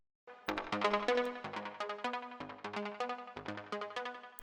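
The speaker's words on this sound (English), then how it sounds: "And on top of that, we're going to add a bit slap." Bright synth lead with a short slap delay, plucky repeated notes in a bouncing pattern, each hit echoing quickly before the next; no voices.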